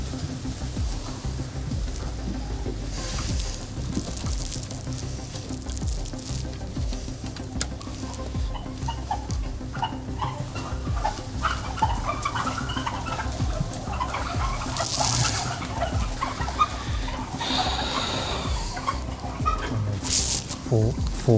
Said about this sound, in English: here we are in a factory farm full of turkeys here in the UK